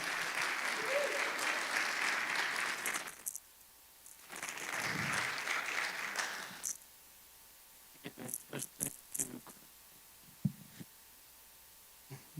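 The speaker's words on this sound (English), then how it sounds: "Everybody give them a round of applause." Forum audience applauding the panelists at a medical cannabis event, a loud wash of clapping that breaks off, swells again, then thins to scattered individual claps and quiet room noise.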